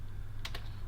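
Computer keyboard keys tapped while typing Python code: a few quick, close clicks in a short burst over a steady low background hum.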